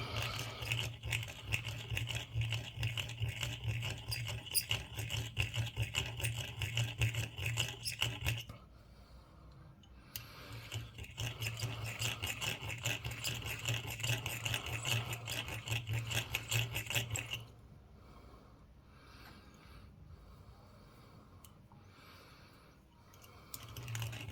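A small rotary burr whines as it cleans out the centre of a 1962 halfpenny coin for ring making. It runs in two long, steady grinding stretches separated by brief pauses, close up and without talking.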